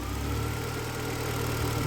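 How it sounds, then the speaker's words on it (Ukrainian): A Volkswagen Passat B3 engine, reportedly misfiring and not charging, idles with a steady low throb and a constant mid-range hum, close by and alone without voices. "мотор робить отлічно"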